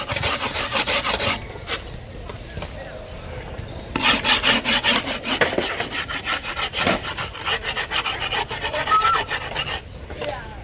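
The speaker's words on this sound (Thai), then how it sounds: "ก็ขูดให้มันพอเป็นรอยนะครับ เป็นรอยรูปแผ่นเราเวลาตัดเราจะได้ตัดง่ายครับ" A tool scrapes repeatedly along the edge of griptape laid on a skateboard deck, marking the board's outline in steady, close rasping strokes with brief pauses between passes.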